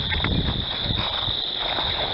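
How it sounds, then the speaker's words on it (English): Frogs and insects fill a night scene in a farming video game with a dense, unbroken chorus: a steady high-pitched insect whine over a thick bed of croaking and buzzing, with no gaps. "Those frogs are really loud."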